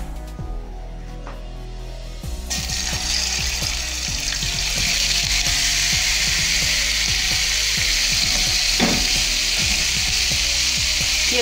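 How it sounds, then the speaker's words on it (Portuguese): Pre-seasoned pork leg, about 1 kg, hits a hot non-stick pan with little fat, and a loud, steady sizzle starts after a quiet moment. It has scattered crackles and pops and keeps going with no voices. "Agora, gente, a gente vai deixar fritar."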